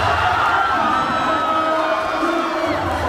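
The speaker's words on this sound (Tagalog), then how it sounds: "Look at the crowd, guys. Sobrang daming nanood, oh." A large crowd cheers steadily at a PBA basketball playoff game between Ginebra and Magnolia at Rizal Memorial Stadium, a sustained loud roar with rising whoops carrying through the stands.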